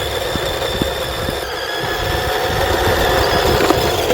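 An LDRC LD1299 RC car's small motor runs at its lower throttle rate with a steady whine and light rattling ticks, close and fairly loud.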